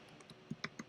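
Typing on a computer keyboard: a few separate, soft keystroke clicks spaced unevenly, quiet and close, with no voices.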